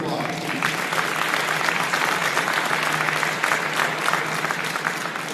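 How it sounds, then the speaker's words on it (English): Sustained applause from an audience at a high school signing day ceremony, dense steady clapping filling the room throughout, fairly loud and even with no pauses. "So let's give this group one more round of applause."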